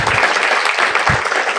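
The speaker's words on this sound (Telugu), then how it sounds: "మన టీం అందరికి గట్టిగా చప్పట్లు కొట్టండి ఒకసారి." An audience at a meditation youth event claps loudly, a thick and continuous wash of many hands close by with no pause.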